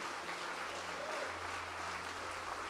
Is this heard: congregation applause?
yes